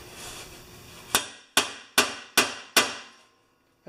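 A hammer drives a punch against the shear pin of a 40-year-old 4HP Ariens snowblower, producing five sharp metallic strikes in an even rhythm, close and loud, after a stretch of quieter background noise.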